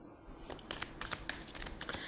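Tarot cards being shuffled up close, a quick burst of riffling and soft slapping card sounds over about two seconds, no speech.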